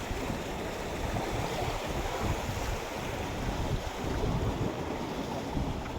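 Strong river current rushing steadily, a broad continuous wash of flowing water with wind buffeting the microphone throughout, close and fairly loud with no break.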